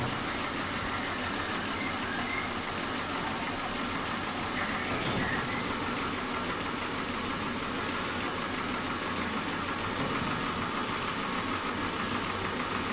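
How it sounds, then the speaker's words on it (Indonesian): Suzuki Katana car engine idling while its ignition timing is adjusted. A steady, continuous low mechanical drone runs close and even throughout, with no talk. "Nah, ini kita bisa dengar suaranya itu turun nih, RPM-nya turun"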